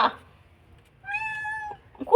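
A kitten gives one clear, drawn-out meow, near and fairly loud, followed by the start of a second cry after a short pause.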